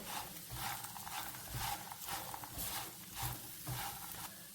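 A cornflakes mixture is stirred in a pan with a soft, rhythmic scraping and light sizzling that repeats steadily at close range and fairly quietly, with no speech.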